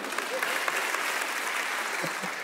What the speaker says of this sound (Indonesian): Yang setuju mau ikut tepuk tangan lagi.